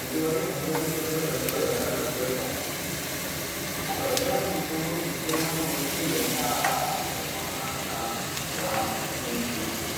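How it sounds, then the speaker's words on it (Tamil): Tomatoes being sautéed in a pan, a steady soft sizzle with intermittent stirring scrapes and faint bubbling, close and even, while a voice can be heard talking lightly through parts of it. "நல்லா வதக்குங்க."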